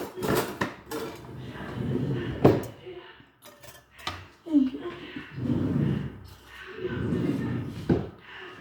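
A metal whisk beats pancake batter in a bowl, giving close, steady clattering and scraping in repeated bursts with short pauses, no voices.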